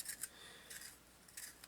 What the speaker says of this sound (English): I'm going to sharpen the pencil.